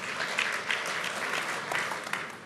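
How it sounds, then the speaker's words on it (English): Audience applause at a Davos business gathering, a steady dense wash of many hands clapping throughout, fairly loud and continuous with no speech over it. "it's not often you get an audience that applauds that one"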